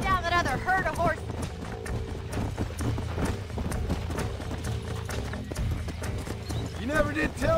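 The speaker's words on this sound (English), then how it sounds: "Let's see if we can track down that other herd of horses." A herd of horses gallops in the Red Dead Redemption video game, with rapid clip-clop hoofbeats and a neighing whinny mixed into a busy game soundscape and music.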